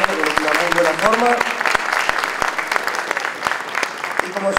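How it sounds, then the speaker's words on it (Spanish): Crowd at a NABBA/WFF bodybuilding tournament in Salta, Argentina claps loudly for the competitors, crisp individual claps standing out within the applause while a voice talks over it. "Vamos a ofrecerles un gran aplauso a todos estos chicos"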